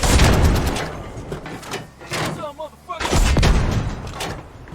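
Bursts of gunfire in the video game Squad crackle loudly in dense, rapid clusters, with a brief quieter gap in the middle before the shooting resumes.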